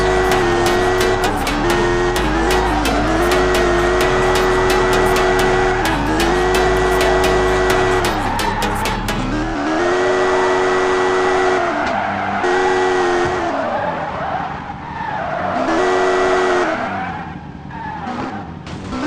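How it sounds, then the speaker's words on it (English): Video game Car Simulator 2 car drifting: loud continuous tire squeal with sliding pitch sweeps over a steady engine drone, sustained for the whole stretch with no voices. "A little bit of more drifting skills."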